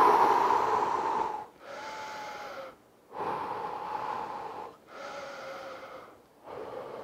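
Heavy breathing after a set of an at-home workout: deep, rasping inhale-exhale cycles about every one and a half seconds, close and steady, without speech.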